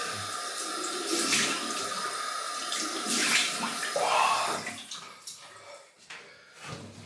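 Cold water running from a tap for a rinse after a wet shave, a steady broadband splash and hiss that swells and dips while hands move through the stream; no one speaks.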